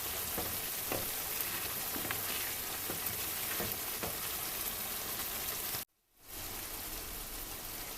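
Shito sauce frying in a pot and cooking down toward a darker colour, a dense continuous sizzle with crackles that cuts out briefly near the end and then resumes.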